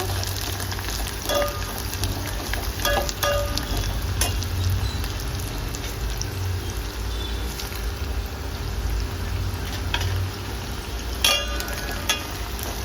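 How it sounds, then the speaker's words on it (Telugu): Dried red chillies fry in hot oil for tempering with a continuous sizzle and occasional sharp pops, close by and fairly loud, with no talking. "మంచిగా పోపు అనేది ఎగనేయాలి"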